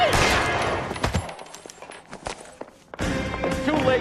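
Rapid bursts of gunfire crack through a tense radio crime drama, several sharp shots in quick succession, then a brief lull before another loud volley.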